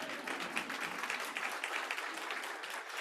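An audience at a conference keynote applauding, a steady wash of clapping from many hands throughout, moderately loud and unbroken, with no talking over it.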